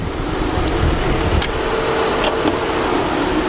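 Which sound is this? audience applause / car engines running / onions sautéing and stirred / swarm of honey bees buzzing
car engines running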